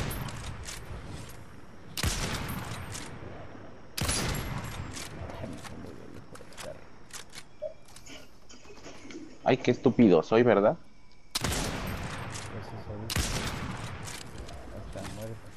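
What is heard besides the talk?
shotgun shots in a Wii shooting video game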